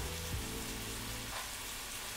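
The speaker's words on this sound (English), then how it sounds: "that sizzling is definitely increasing in volume" Teriyaki-sauced meal-prep ingredients frying in a pan give a steady, dense sizzle that carries on without pause at close range, with a low hum running beneath it.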